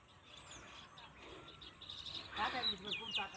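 House sparrows in Chennai, gathering straw from a haystack for nest-building, give bright scattered chirps and tweets that grow busier and louder toward the end over a faint background hum.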